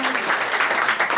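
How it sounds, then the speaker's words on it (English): Wedding guests at a ceremony give a short burst of scattered clapping, brief and moderately loud. "Give him a clap,"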